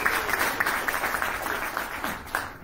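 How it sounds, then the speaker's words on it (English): An audience claps together in steady applause for a champion dancer being introduced, a dense, even patter held for a few seconds with no one speaking. "Give Will Tushka a round of applause."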